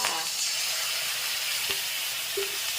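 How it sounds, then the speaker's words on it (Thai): Thai curry paste for a pork tongue curry is dry-roasted in a pan, producing a steady, close sizzling hiss with a couple of faint utensil clinks and no talking. "เราคั่วพริกแกงให้หอมๆนะคะ"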